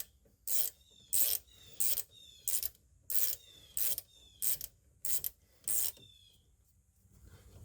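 A ratchet tightens bolts on a 2016 Honda CR-V AWD rear brake during a pad and rotor job, making eight short, loud clicking bursts in a regular rhythm, close up with quiet pauses between strokes.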